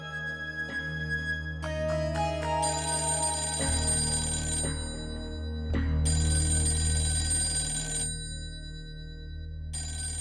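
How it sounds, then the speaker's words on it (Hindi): A home telephone ringing indoors, a repeated electronic ringtone pattern layered over dramatic background music, with no voices present. "फोन बज रहा"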